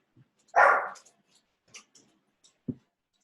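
A single dog barks once, fairly loud and close, followed by a few faint knocks and a brief low thump in an otherwise quiet room.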